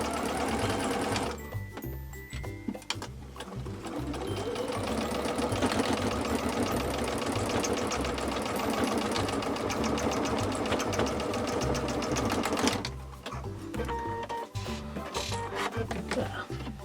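A sewing machine stitches a quilted zipper pouch in a steady, rapid mechanical chatter that runs continuously, slows briefly near the start and again toward the end, with no talk.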